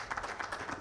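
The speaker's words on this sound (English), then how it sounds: "A round of applause." A conference audience gives a round of applause at the close of a talk. The clapping is faint and brief, a quick patter of scattered hands heard from a distance.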